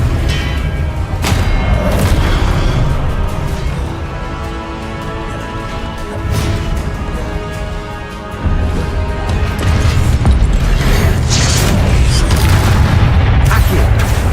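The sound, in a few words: Hogwarts Legacy video game spells Incendio and Confringo exploding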